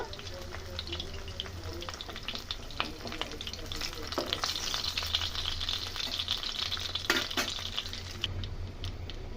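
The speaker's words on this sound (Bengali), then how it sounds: "এভাবে উল্টি পাল্টে লাল লাল করে আমি সবগুলোকে ভেজে নেব" Pieces of pointed gourd (potol) frying in oil in a pan, a continuous gentle sizzle with occasional scraping and turning sounds, moderately quiet and steady throughout.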